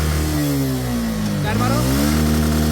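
Motorcycle engine revving hard through the gears during a speed check, a loud, steady climbing whine that dips briefly at a gear change and rises again, close and continuous.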